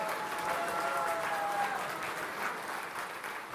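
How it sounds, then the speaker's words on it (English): Sustained round of applause from an audience at a live international performance event in Mumbai, India, a dense steady wash of clapping with faint crowd murmur, a brief thin tone audible beneath it. "Let's have a round of applause for the Indian community"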